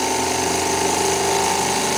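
Bing Weeden toy steam engine spinning at high RPM, a continuous fast buzzing whir with a rapid mechanical chatter, close and steady throughout.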